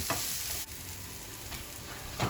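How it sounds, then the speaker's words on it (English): Onions sautéing in a pan give a steady, soft sizzle up close, with a couple of faint stirring touches and no talking. "Our onions have sauteed a little bit here, and they're ready."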